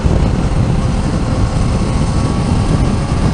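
Steady, loud engine and wind roar from a 2019 Yamaha Niken three-wheeled motorcycle cruising at about 60 mph in third gear, a continuous low drone with heavy wind buffeting and no talk.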